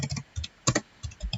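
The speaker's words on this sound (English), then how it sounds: "Excuse my typing there." Quick bursts of clicking keystrokes on a computer keyboard, close and fairly quiet, in short uneven runs with brief pauses and no voices.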